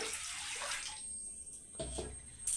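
Water pours into a pot on a gas stove, six cups for a sugar syrup for Bengali-style rasmalai, a close splashing flow that shifts in tone and ends in a brief gush.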